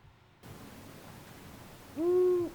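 A single owl hoot rises out of a quiet night hiss, one clear, low, tonal call lasting about half a second near the end, with no talking.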